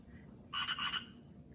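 A frog croaks in a short burst of rapid pulsing calls, fairly close and clear over a low background rumble, with no voices.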